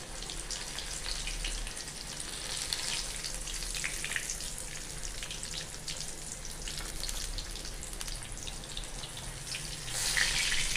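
Pieces of elephant foot yam and fish fry in hot oil in a pan, a continuous crackling sizzle with scattered pops, close and steady, briefly louder near the end.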